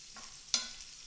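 Lamb and potato patties frying in oil in a pan, a soft steady sizzle with a couple of brief stirring or turning sounds, close and quiet.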